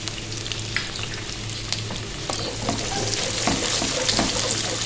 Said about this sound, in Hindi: थोड़ा सा हमने लहसुन को फ्राई करना है